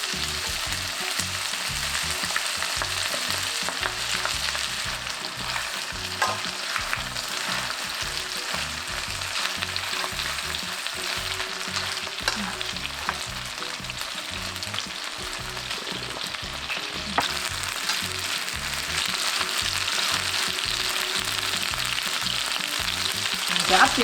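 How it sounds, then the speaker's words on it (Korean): Chicken pieces pan-frying skin side down in butter and avocado oil, giving a steady, close, dense sizzle that runs unbroken throughout with no talking. "껍데기는 쪽부터 노릇노릇하게 구워줄게요"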